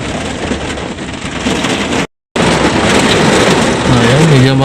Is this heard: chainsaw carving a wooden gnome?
no